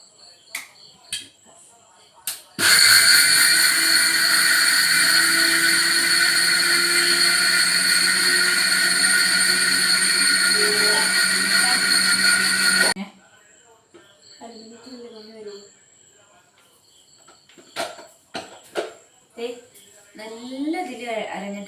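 A new Sujatha mixer grinder with a little water in the jar runs for about ten seconds as a loud, steady whirring whine, then cuts off abruptly; people talk before and after.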